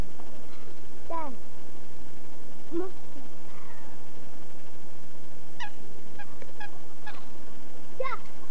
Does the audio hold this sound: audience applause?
no